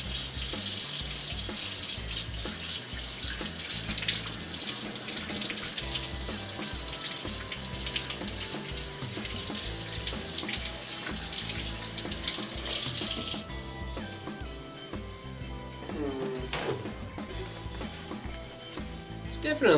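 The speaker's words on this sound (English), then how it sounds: "I'm just gonna go ahead and wash my hands now." Hands are washed under a running tap, a loud steady hiss of water for about thirteen seconds that then stops, followed by quieter handling sounds and light splashes.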